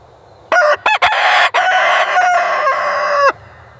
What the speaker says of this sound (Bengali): মোরগ সকালে ডাক দিয়ে সবাইকে জাগায়